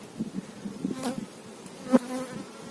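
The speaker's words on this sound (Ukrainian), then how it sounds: "Бджоли досить гарно носять." Honeybees buzz softly around a hive, a low steady hum with individual bees droning past up close.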